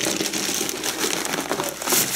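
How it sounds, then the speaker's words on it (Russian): Large AliExpress parcel being unpacked by hand, with continuous close crinkling and rustling of packaging material and no speech. "Распакуем большую посылку."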